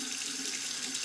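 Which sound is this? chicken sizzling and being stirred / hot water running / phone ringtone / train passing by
hot water running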